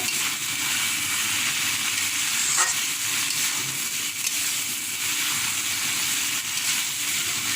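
Shrimp and drumstick stems sautéing in a pan, a dense, even hiss and sizzle that holds steady up close with only faint stirring movements.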